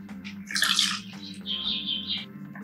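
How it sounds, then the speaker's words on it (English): Homemade bioenzymatic hand wash with essential oil being poured into a clean bottle, a close, bright trickling splash lasting a couple of seconds with brief gurgling pauses. "Pour this solution into a clean bottle."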